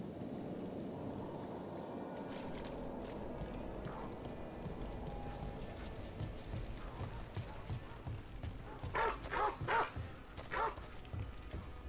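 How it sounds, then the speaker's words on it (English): Dogs barking in a video game set in a village, a burst of several sharp barks in quick succession near the end over a busy background of hoofbeats and ambient noise, with voices talking. "All the dogs are barky."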